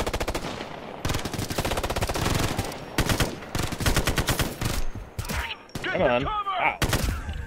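Rapid automatic gunfire rattles through the shooter game Ghost Recon: Future Soldier in dense, loud bursts, then breaks into scattered shots while someone speaks briefly over the action.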